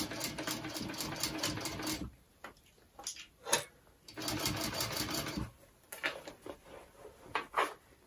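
A sewing machine stitching a backpack runs in fast rattling bursts up close, pausing between runs with a few clicks and handling knocks, no voices.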